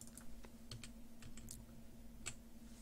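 Computer keyboard typing, quiet irregular key clicks and taps in bursts over a faint steady background hum, no voice.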